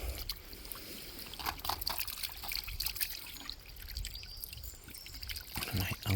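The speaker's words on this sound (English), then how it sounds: "Right, I'm wetting the grave again." Water trickles and splashes as it is poured to wet a weathered 17th century gravestone outdoors, a faint, uneven dribbling with brief gushes and soft background noise.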